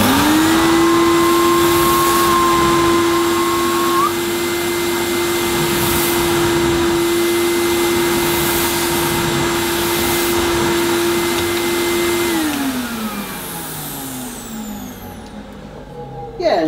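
A Hoover SC086 Maestro bagged cylinder vacuum cleaner running on full suction with an automatic nozzle, a loud steady motor whine held for about twelve seconds before winding down near the end.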